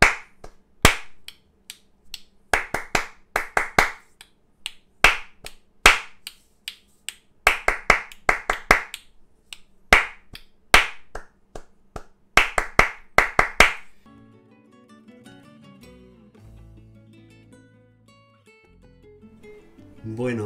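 Flamenco palmas for alegrías: sharp, crisp hand claps in rhythmic groups with brief pauses between phrases, dry and close. The clapping stops partway through, leaving a faint low murmur.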